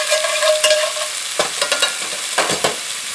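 Beef for Wisconsin tavern-style hot beef sizzles loudly in a pan, with a continuous hiss broken by scraping stirs of a utensil against the pan.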